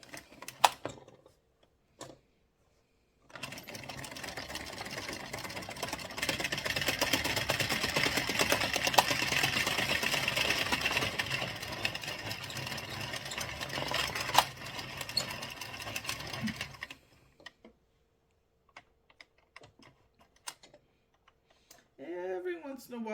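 An Addi circular knitting machine is cranked for two rows, giving a dense, steady clattering whir of plastic needles that runs for several seconds, then stops. Soft voice sounds come in afterward.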